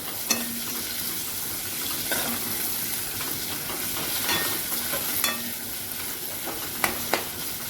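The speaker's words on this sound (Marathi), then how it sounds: "व्यवस्थित आपण परतून घेऊया" Pigeon pea vegetable curry sautéing in a pan, with a soft continuous sizzle and hiss under periodic scraping stirs and a few sharp taps of the spoon against the pan.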